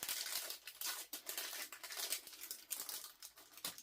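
A package of holiday stickers crinkles steadily up close, the plastic rustling and crackling continuously for a few seconds.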